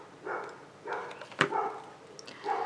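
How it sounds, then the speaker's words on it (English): A dog barks a few times in the distance, faint short yaps scattered over a quiet background with a brief click in the middle. "Sorry for the dog barking."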